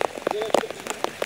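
Rain falls in a village during the monsoon season, a close, steady patter with voices talking over it.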